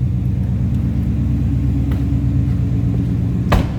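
A 2016 Ford Mustang GT's 5.0 V8 idles close by, a low, steady engine rumble, a deep continuous throb with a brief sharp click near the end.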